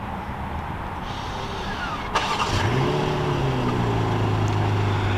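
A 2023 BMW X6 xDrive40i fires up by remote start, with a sharp starter crank and catch followed by a rising engine flare that settles into a steady idle hum over a constant background rumble.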